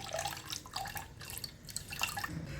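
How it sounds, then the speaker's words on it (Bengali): Water pours and splashes into a bowl of mashed cooked rice for an Odisha-style tanka torani drink, a steady close trickling with small drips, no voices. "আর একটা পাত্রের মধ্যে জলটা দিয়ে দেব।"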